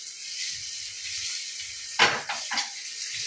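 Butter sizzles in a pan over a high flame with a steady hiss, then a spoon stirs it, adding a burst of scraping and clinking near the middle; no one speaks.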